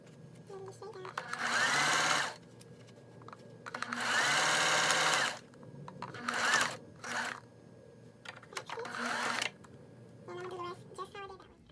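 Sewing machine stitching a custom makeup brush belt, running in several loud whirring bursts of a second or two each, close by, with a person talking in the pauses between runs.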